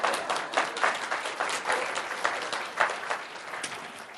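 An audience at a school scholar presentation applauds with a full, crackling burst of many hands clapping, loud at the start and then holding steady, with a few sharper claps standing out, and no voices over it.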